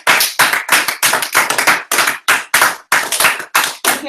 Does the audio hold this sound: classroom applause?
yes